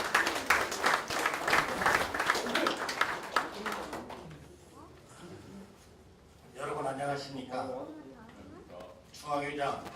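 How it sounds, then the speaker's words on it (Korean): Audience applause at an inaugural ceremony of a national anti-corruption citizens' movement federation in Daejeon, a dense burst of clapping that fills the first few seconds and then fades, followed by quieter hall sounds with some speech. "박수로 모셔주시기 바랍니다"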